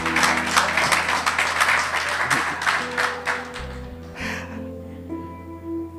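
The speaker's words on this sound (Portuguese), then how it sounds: "aplauda Jesus porque Jesus merece." A church congregation applauds, steady rhythmic clapping over sustained keyboard music, easing off midway as a few claps linger and the instrumental tones carry on.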